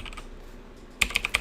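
Quick keystrokes on a computer keyboard after a second of near quiet, five or six crisp clicks close by in an uneven rhythm.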